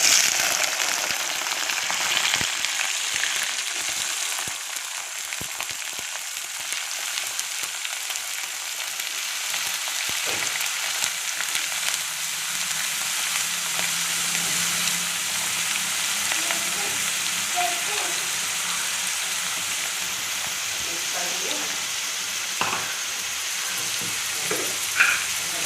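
Medium-sized brinjal pieces frying in a pan give off a steady, close sizzle that runs throughout, with faint scattered clicks and pops of stirring.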